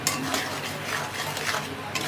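Mourola fish sour curry with raw mango is stirred in a pot after sugar goes in, close scraping of a spoon against metal over a steady bubbling sizzle, brief and continuous with no talk.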